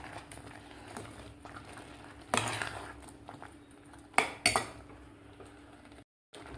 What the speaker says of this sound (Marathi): त्याला व्यवस्थित हलवून घ्यायचं आहे आणि 4 ते 5 मिनिट आपल्याला हे शिजवून घ्यायचं आहे खीर